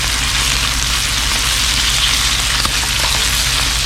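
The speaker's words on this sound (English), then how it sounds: "So how it's running down now, you're getting the sear." Stingray meat sears in a hot pan outdoors on a breezy pier, giving a loud, steady broadband sizzle that holds without pause for the full few seconds, with no voices over it.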